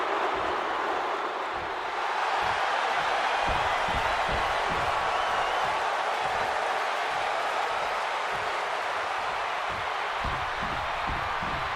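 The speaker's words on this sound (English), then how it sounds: "And this capacity crowd just exploded" A capacity wrestling crowd roars and cheers as Rollins heads into a match against CM Punk, a broad, steady wash of noise filling the arena with rhythmic stomping or clapping pulses underneath.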